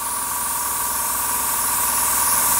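A steady, close hiss of a Tamiya HG SuperFine airbrush spraying paint continuously, with a faint tonal whine underneath and no talking.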